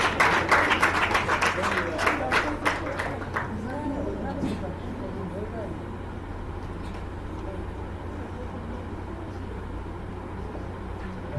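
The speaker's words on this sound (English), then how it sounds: "Please, a round of applause to him and thank you." Audience at a nursing event applauding a speaker: a short burst of clapping at the start that fades out within a few seconds, followed by murmuring voices and room noise with a steady low hum.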